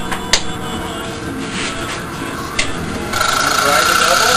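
A wood lathe turning a bowl while a tool cuts into it, a steady whirring drone with a couple of sharp catches, growing louder and harsher near the end, with someone talking over it.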